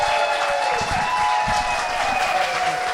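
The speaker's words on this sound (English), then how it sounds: "Would you please welcome and give a big round of applause" A crowd at a stand-up comedy show claps steadily to welcome a comedian, a full, continuous wash of applause from many hands, with a faint steady tone running underneath.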